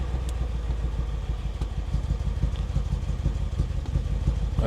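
BMW X5M engine idling with a cylinder misfire, a rough, uneven chugging with irregular stumbles and clatter, close and steady with no voices.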